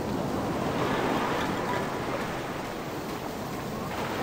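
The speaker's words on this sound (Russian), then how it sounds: "судя по плеску волн" Waves splash and wash at the bottom of a fog-covered chasm in the game The Black Mirror, a continuous rushing surf with no voices.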